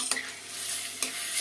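Tomato and pepper paste fries in a pan with the other ingredients for a green bean dish, giving a steady close sizzle and two brief stirring scrapes.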